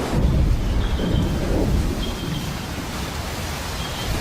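A heavy tropical thunderstorm over Wallacea in Indonesia rumbles continuously with deep, rolling thunder and a dense wash of rain, loud and steady with no voices.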